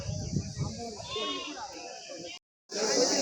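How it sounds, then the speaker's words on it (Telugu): Sheep and rams bleat at a weekly sheep and goat market, wavering cries rising over a busy background with people talking nearby, before a brief cut and a return of crowd noise. "సో ఇక్కడ ఉన్న చూడండి ఫ్రెండ్స్ కొన్ని పొట్టేళ్ళు అన్నీ కూడా ఉన్నాయి గొర్రెలన్నీ"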